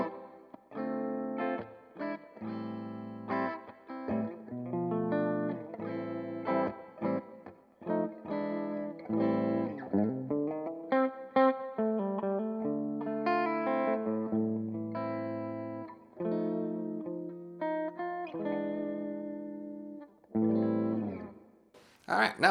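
Electric guitar played through an Orange Tiny Terror 15-watt 1x12 combo with an Electro-Harmonix Holy Grail Plus reverb on its hall setting, clean picked chords and single-note phrases ringing out with a spacious tail, alone and fairly soft.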